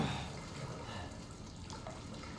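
Running, splashing water in a dark, flooded area of the horror game Resident Evil 7, a steady noisy wash that stays loud and constant throughout.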